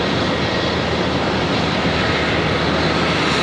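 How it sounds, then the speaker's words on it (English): Boeing 777 landing at Charlotte Douglas airport with gear down, a loud dense broadband engine and wind roar, steady and close with no breaks. "Holding that gear down for quite a while for that 777."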